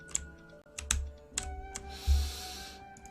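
Computer keyboard keys tapped in short, irregular bursts of crisp clicks while playing a mobile game through an app player on a PC, with quiet music underneath.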